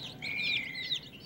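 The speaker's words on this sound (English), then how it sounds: "These are called Silver Cross baby chicks." Silver Cross baby chicks cheep in a quick run of thin, high-pitched peeps, fairly close and moderately loud, with no talking over them.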